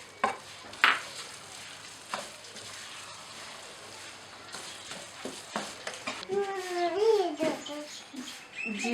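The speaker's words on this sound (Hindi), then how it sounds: "अब मैं इसमें थोड़ा सा नमक ऐड कर दूँगी और इसे मिक्स करके डिश आउट कर दूँगी।" Masala Maggi noodles with vegetables and a pinch of salt being stirred in a pan, with soft scraping and sizzling strokes close by and brief squeaky sounds near the end.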